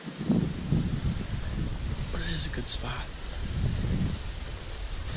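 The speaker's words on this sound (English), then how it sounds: "It's pretty windy today." Steady wind rushes and buffets a microphone outdoors near a deer bedding area, with a person speaking quietly over the constant gusty noise.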